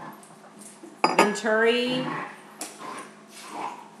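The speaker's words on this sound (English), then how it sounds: "excuse the noise in the background because my dogs are about to have a big battle" Pet dogs squabbling in the background of a home kitchen, giving a loud drawn-out whimpering whine and sharp yelps that rise and fall, while a person talks over and between them.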